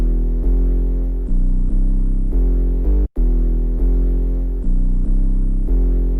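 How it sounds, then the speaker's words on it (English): Filtered "Crime Effect" 808 bass in an FL Studio jazz-style beat: deep, sustained booming bass notes shifting pitch in a looping pattern, loud and alone, with one brief dropout midway. "Moving on to the 808, the Crime Effect 808,"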